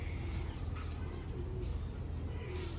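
Pigeons cooing softly and low under a constant rumbling background, the calls faint and continuous through the short stretch.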